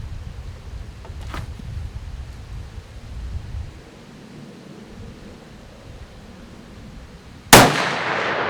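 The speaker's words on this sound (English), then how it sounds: "And we're shooting this one at the bottom target." A CVA Scout V2 muzzleloader converted to smokeless powder fires a single sharp, loud shot near the end of a quiet outdoor stretch at the range, the blast decaying into a lingering echo.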